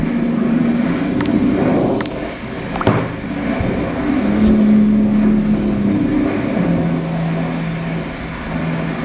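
A ferry's steady, droning engine rumbles on at the Port of Santos, with a low hum that shifts pitch slightly and constant wind and water noise around it.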